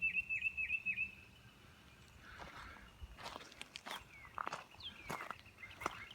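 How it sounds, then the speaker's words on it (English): Faint birds chirp in a quiet outdoor setting, a quick trill of tweets first, then scattered distant calls over soft rustling and footsteps. "so you can hear all the pretty birds chirping"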